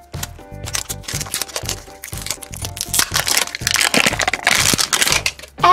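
Plastic wrapper on an LOL Surprise Pet Eye Spy Series 4 toy ball layer being torn open, giving a steady run of close, loud crinkling and crunching bursts that build toward the end.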